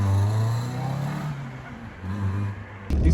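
1985 Honda CRX 1.5i engine running loud and close, its note rising and falling as the car pulls away, ending in a sudden thump.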